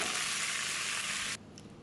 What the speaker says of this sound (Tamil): எண்ணெயில் கடுகு உளுந்த பருப்பு கருவேப்பிலை போட்டு தாளித்து கொட்டிக்க போகிறோம்